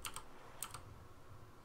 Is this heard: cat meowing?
no